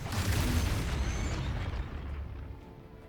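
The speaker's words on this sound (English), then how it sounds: "Is that the exploding that you're talking about?" A single loud explosion in Baldur's Gate 3 booms out at once, then rumbles and fades over a few seconds with no voices.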